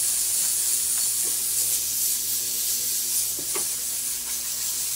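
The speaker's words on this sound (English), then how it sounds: "So now I will steam the ring off." A steam cleaner blows a steady, loud hiss over a ring, one continuous spray with slight fluctuations and no pauses.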